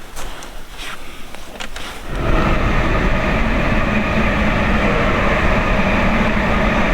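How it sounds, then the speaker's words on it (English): A diesel train roars past close by, a loud steady rumble with rattling and clatter that swells in after a quieter start and holds throughout. "Nice, I can appreciate a nice diesel going roaring past."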